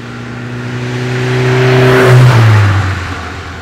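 A 1963 Alfa Romeo Giulia 1600 Spider roadster drives close by, its engine note humming steadily and then swelling and dropping in pitch as it revs, loud and alone without voices.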